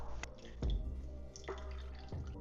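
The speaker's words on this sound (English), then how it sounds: "Now take the infused heavy cream, strain out the zest." Infused heavy cream pours through a strainer in a kitchen, dripping and splashing in a few soft, irregular plops, close and fairly quiet.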